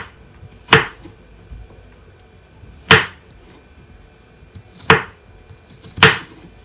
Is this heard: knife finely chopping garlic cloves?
yes